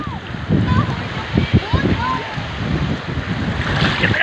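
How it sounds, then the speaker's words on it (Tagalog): Sea waves wash and splash over shallow rocks on a cold morning along a shoreline where mussels are gathered, a close, continuous surging rush with wind buffeting the microphone and voices calling nearby. "Nililigo sila ng dagat. Alon."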